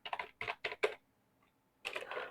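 Someone types a command on a computer keyboard in a Linux terminal. A quick run of close keystrokes is followed by a short pause, then another burst of rapid typing.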